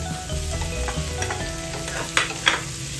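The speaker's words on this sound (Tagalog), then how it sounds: "Lagay na natin yung ating hipon." Shrimp frying in a pan for fried rice, with green peas in the mix: a steady close sizzle under stirring, broken by two sharp scraping clacks of a utensil toward the end, no talking.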